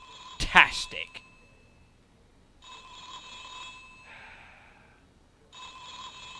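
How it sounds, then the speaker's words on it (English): A phone rings in The X-Files video game, sounding as repeated electronic ring bursts at moderate volume after a brief breathy vocal sound at the start. "Answer your damn phone."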